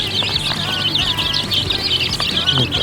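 Chicks eight to fourteen days old chirp continuously in a dense, high-pitched chorus close by, with many overlapping peeps and no voices.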